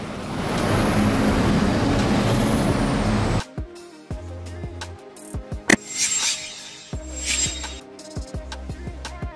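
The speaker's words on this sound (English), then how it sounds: "a police vehicle equipped with a high-pressure water cannon used to control riot situations" A police water cannon truck built for riot control, with a loud hiss of air brakes releasing at the start, then idling engine rumble, clanks and short mechanical pulses as the vehicle sits nearby.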